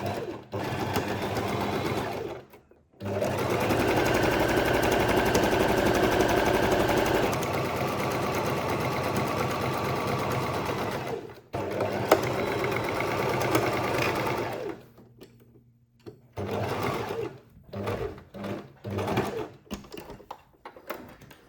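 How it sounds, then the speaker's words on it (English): Sewing machine running a straight stitch along the edge of a fabric shoulder strap, with long close bursts of steady whirring and needle chatter broken by pauses and then shorter stop-start runs for reverse stitching. "we will do a straight stitch all the way down this edge"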